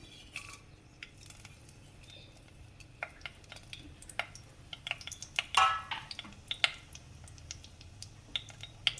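Fennel seeds crackle and pop in hot oil, scattered sharp bursts over a faint sizzle, with an occasional clink of a utensil against the pan.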